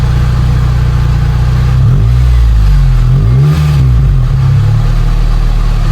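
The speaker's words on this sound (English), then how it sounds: "Give a little bit of gas." Stock car engine fitted with a J2 Engineering exhaust, loud and close, idling with a deep rumble and then revving up in a couple of swells before settling back.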